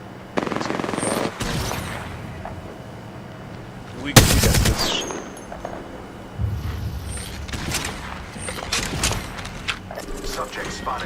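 Bursts of automatic gunfire ring out during an Apex Legends match, with a loud volley in the middle and scattered shots before and after, while a player briefly talks.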